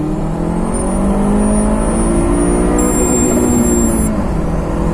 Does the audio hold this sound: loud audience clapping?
no